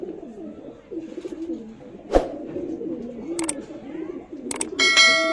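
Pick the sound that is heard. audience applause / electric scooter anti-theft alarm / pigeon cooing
pigeon cooing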